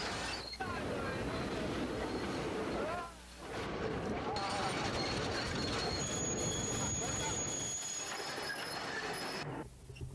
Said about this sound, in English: Let's take a ride on the Skunk Railroad.